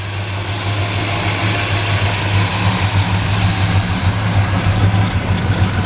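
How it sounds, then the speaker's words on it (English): A 1961 Chevrolet Impala V8 with electronic ignition idles steadily and close by, a deep low rumble with a smooth, even throb throughout and no talking. "Not too loud, but sounds good. Knows you got a V8 under the hood at least."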